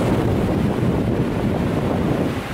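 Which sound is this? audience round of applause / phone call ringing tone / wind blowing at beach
wind blowing at beach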